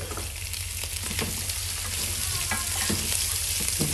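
Garlic, thyme and spices sizzling steadily in hot oil in a pan, with a spoon scraping and stirring at intervals; continuous close crackle, no voices.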